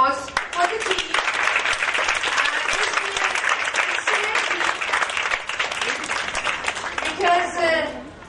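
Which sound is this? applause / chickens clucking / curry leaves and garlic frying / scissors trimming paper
applause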